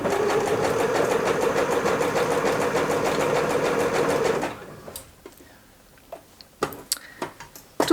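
A sewing machine runs steadily and loudly, stitching scalloped elastic onto jersey fabric, a continuous close whirring hum for several seconds before stopping, followed by a few faint handling taps and clicks.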